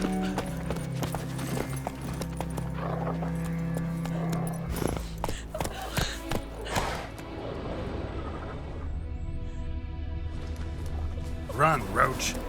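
Roach the horse galloping in the video game The Witcher 3, with rhythmic clip-clop hoofbeats running under game music and a voice talking.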